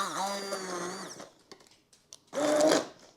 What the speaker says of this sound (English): If you don't have an immersion blender